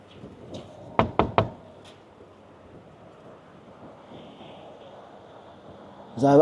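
Knuckles rap three times in quick succession on a door at a truck stop, sharp and close, with faint wind and ambient noise around them and a louder bump near the end.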